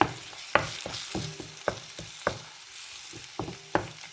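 Salted food being stirred in a frying pan, a spatula knocking the pan in irregular strokes over a continuous low sizzle, close up with no voices.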